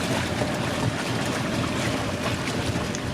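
Steady wind roars around a sailing yacht anchored off Kekova in Turkey, with water and boat noise mixed in; the broad, constant rush stays loud and close for the whole stretch, with no voices.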